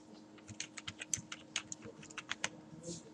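Rapid keystrokes on a computer keyboard, typing a web search, come in an uneven burst of about twenty close, crisp clicks over a quiet room background.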